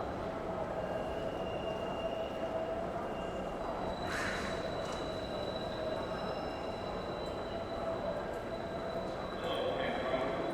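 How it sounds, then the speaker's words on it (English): A steady low rumble of a PATH train to Hoboken or Newark rolling through the World Trade Center station in New York, with faint metallic squeals and distant voices echoing in a large space. "See, that's the Hoboken train, and the other side is the Newark train."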